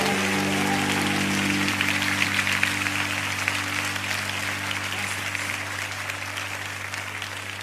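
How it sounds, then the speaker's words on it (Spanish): A church congregation claps loudly and continuously in praise, a dense sustained wash of hands over a steady low hum of musical tones from instruments. "Vamos, dele un buen aplauso al Señor."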